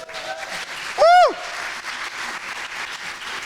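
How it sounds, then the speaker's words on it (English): Audience applause at a sales summit talk, a moderate, steady patter of clapping from a crowd, briefly topped by one loud whooping cheer from a single person near the one-second mark. "Round of applause"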